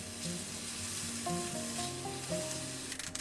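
Thinly sliced zucchini stir-fries in oil, producing a steady close sizzle with faint tonal hum beneath and a few light scraping sounds near the end, with no speech.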